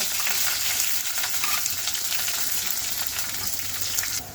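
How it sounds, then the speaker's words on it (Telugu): Pieces of onion and green chilli fry steadily in hot oil for a tamarind-style colocasia curry, a dense, even sizzle with light crackle from start to end and no voices. "ఈ ఉల్లిపాయ పచ్చిమిరపకాయ ముక్కలు బాగా వేగిన తర్వాత"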